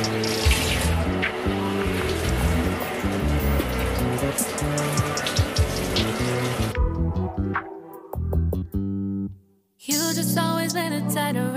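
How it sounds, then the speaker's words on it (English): Tap water runs steadily while a young girl's natural 4c hair is washed at a sink, a continuous splashing wash that pauses briefly near the end before resuming, with music audible. "So I'm going to be washing her hair first before my other daughter."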